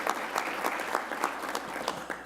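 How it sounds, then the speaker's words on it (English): A conference crowd gives a round of applause for a former health minister, continuous dense clapping from many people with scattered sharper claps close by, even in level. "Give him a round of applause, please."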